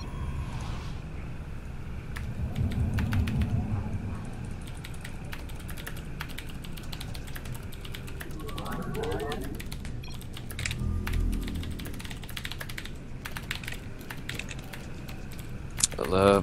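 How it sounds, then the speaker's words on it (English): Rapid, furious clattering on a computer keyboard during a StarCraft 2 match, dense bursts of keystrokes running throughout under game sounds and some quiet talk. "I love that typing. Love that furious typing."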